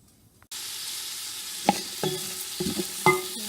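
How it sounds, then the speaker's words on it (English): Onions going into hot short rib drippings with a sudden steady sizzle, then several scraping stirs against the pan, close and clear. "Now I'm going to leave the drippings in from the short ribs and going to place the onions in."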